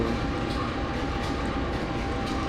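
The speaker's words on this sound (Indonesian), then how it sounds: "ini dia kereta kita ya tadi, Sancaka Utara KA233F" The Sancaka Utara KA233F train sits at Bojonegoro station in the Trainz railway simulator, giving off a steady, loud rumble of rail noise with no speech over it.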